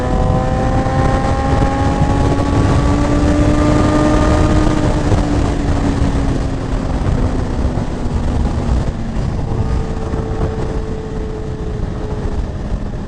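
A 2022 Suzuki GSX-R1000 sport bike's engine pulls hard and loud through the gears, its rising whine carrying steadily with wind rush throughout and easing slightly near the end.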